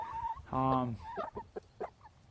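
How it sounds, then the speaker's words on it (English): A hen gives a loud harmonic squawk, followed by a few short clucks, close by and otherwise quiet. "let you watch the chickens"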